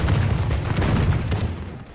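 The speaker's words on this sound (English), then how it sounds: "the sound of cannons and muskets firing is loud and clear, thundering throughout the battlefield" Cannons and muskets fire in a Total War gunpowder battle, a dense, continuous low rumble of booming volleys rolling together, loud and sustained with no clear gaps between shots.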